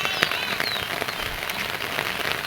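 Steady rain patters on surfaces nearby, a dense continuous hiss with scattered individual drops, no voices.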